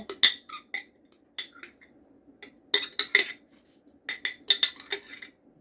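Fermented peppers, celery and garlic tipped into a bowl in a kitchen, with a string of close, bright clinks and clatters as a utensil knocks against the dishes in separate bursts, and no talking.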